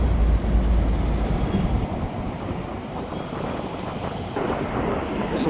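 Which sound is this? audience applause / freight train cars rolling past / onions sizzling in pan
freight train cars rolling past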